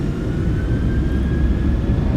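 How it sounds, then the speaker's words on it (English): Boeing 737-700 jet engines spool to takeoff power in the PMDG flight simulator, a loud, steady low roar with a faint high whine running through it. "Takeoff power set."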